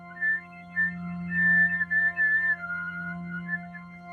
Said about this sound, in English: Let's try making those whistle tones on purpose.